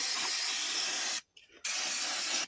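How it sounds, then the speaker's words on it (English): Brake cleaner sprays onto trailer brake parts in two loud, close, steady hissing bursts separated by a brief pause. "so this is a bit of brake clean"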